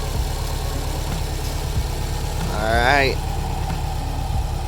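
A car engine idles steadily after a timing belt change, a low even rumble throughout, while someone speaks briefly over it.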